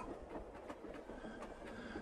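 Train rolling along an alpine railway through meadow scenery as it slows, a steady low rumble with soft, regularly spaced clickety-clack beats, fairly faint and distant with no talking.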